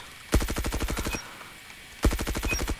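Groza assault rifle fired in a video game training mode, two separate bursts of rapid automatic shots, each about a second long, loud and close with a short quiet gap between them.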